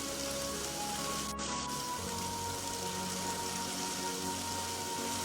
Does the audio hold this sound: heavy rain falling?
yes